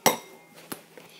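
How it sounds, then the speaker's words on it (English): A utensil scraping orange lip balm colour into a bowl gives a sharp clink followed by a couple of lighter taps, close and brief with no voices. "So we're going to scrape our colour into the bowl."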